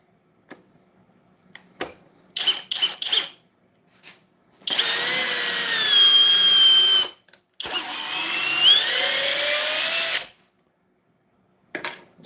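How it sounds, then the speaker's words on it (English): Heavy half-inch variable-speed drill driving a big timber lag screw through a knot in wood. A few short trigger bursts come first, then two long, loud whining runs with a strained, wavering pitch, and finally a brief blip. "Probably why the manufacturer tells you to use a 1/2 inch variable speed drill for these big lags, these big timber locks, the big screws."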